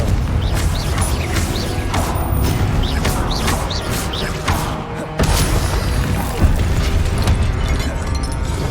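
Confringo fire spell in Hogwarts Legacy, booming magical blasts and crackling mechanical bursts repeating in quick succession over dense, loud game ambience, with a brief dip before the noise surges back.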